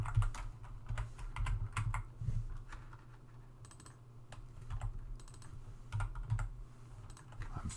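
Quiet clicking of keys on a computer keyboard in short irregular bursts, with a low steady hum underneath and no talking.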